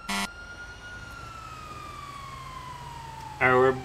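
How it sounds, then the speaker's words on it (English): A Pierce Arrow XT fire engine in GTA 5 runs its quieter siren, a steady wailing tone that slowly falls in pitch, sounding continuously at moderate volume with brief bursts of voice at the start and end. "can I get my sirens on? There we go. We'll use the quieter sirens"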